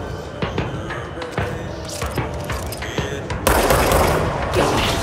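Sniper and enemy gunfire in the video game Control, dense and continuous, with rapid sharp shots and heavy blasts layered over a constant loud backdrop of combat effects.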